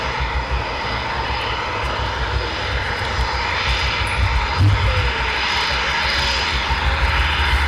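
Eurofighter Typhoon jets flying at night over RAF Coningsby: a continuous, loud jet-engine roar fills the air, swelling slightly toward the end as the aircraft draw nearer.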